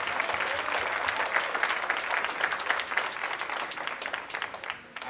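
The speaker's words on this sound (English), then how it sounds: "Clap your hands." A gospel concert crowd claps together in a steady rhythmic beat, bright and sustained, tapering slightly near the end.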